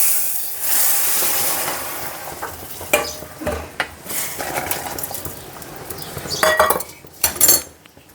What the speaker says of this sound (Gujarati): અને આમાં જ વઘાર કરી નાખું